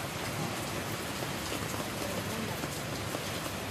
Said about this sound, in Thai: ฝนตกเวลาเรากินหมดแล้วก็ให้ฝนหยุดเถอะ